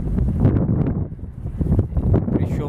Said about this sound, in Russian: буквально на глазах ветер меняется